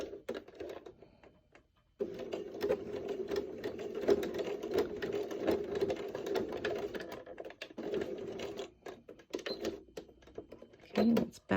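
A home sewing machine stitches the fabric of an adventure hood, a steady buzzing chatter that starts after a couple of quiet seconds and runs for about eight seconds at moderate volume before dropping off.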